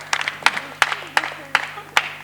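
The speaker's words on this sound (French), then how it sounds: "Est-ce qu'on peut applaudir pour ça?" Studio audience on a French-language TV talk show claps in a few loud bursts, uneven and spaced about every third of a second, in a short scattered round.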